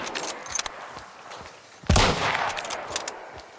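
Gunfire in the video game Hunt: Showdown, with scattered sharp cracks followed by a louder burst of rapid shots near the middle, trailing into smaller pops against a noisy background.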